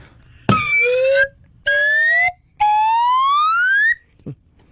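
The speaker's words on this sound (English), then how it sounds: "There goes the boner whistle, too." A radio show's boner whistle sound effect, three loud rising slide-whistle blasts in quick succession, each sustained for about a second, heard alone without talk.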